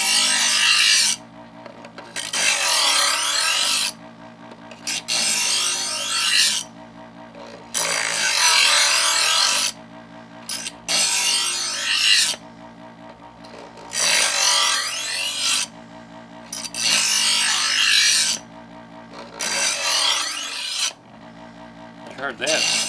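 A Presto EverSharp electric knife sharpener works a blade through repeated strokes, each pull a harsh, rasping grind over a humming motor, about ten evenly paced bursts separated by short pauses, close up with no talk.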